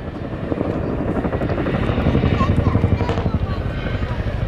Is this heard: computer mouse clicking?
no